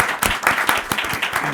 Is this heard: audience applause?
yes